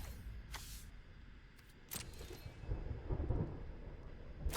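Burst Lightning spell effect crackles in a Magic card video game, a sharp electric burst followed by a rumbling thunder-like roll that swells toward the end, loud and alone.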